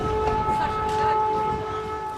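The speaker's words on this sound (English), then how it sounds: "The air raid sirens still wailing as daylight revealed the destruction." Air raid sirens wail with steady, sustained tones, a layered mechanical howl holding at a constant pitch over distant background noise.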